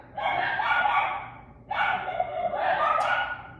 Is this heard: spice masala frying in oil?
no